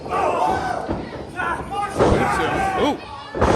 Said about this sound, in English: beautiful butterfly suplex from Mark Brutal.